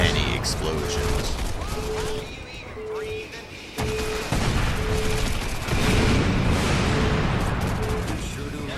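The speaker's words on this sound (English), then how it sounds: "So many explosions." Explosions and gunfire in the Crackdown video game, with repeated booms and crackling blasts over a dense battle din and game tones, while someone talks throughout.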